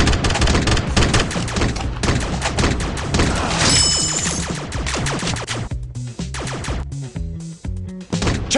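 Toy guns fire in a teddy bear gun strike shooting game, a dense, continuous run of sharp percussive pops and thuds layered over a rhythmic musical backing.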